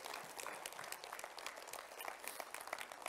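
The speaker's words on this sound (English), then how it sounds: "Somebody clap your hands for the glory of God." A church congregation claps its hands during a sermon, a continuous, fairly faint patter of many hands with scattered sharper claps rising above it.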